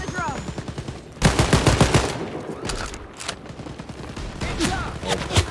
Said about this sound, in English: I'm shooting down this road.